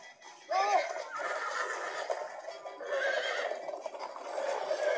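Horses whinny and neigh in a Minecraft: Story Mode scene, several high wavering calls over a continuous background, with faint hoof clip-clop.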